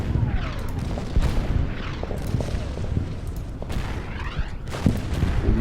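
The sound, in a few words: artillery fire in video game Order of Battle: Winter War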